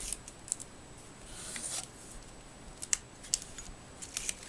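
Scissors cut through a card box in a quiet room, giving several short, crisp snips and clicks at irregular intervals, close but faint.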